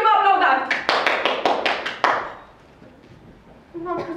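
A short burst of hand clapping from a small theatre audience, about ten sharp claps in quick rhythm that fade out, followed by a voice speaking.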